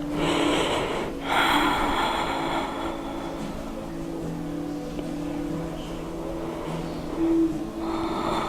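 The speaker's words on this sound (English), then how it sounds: "breathing deep, your Ujjayi breath." Deep Ujjayi yoga breathing during a Kripalu-style flow class, heard as slow, steady breaths with a rushing, throaty hiss that swells and fades alone at close range.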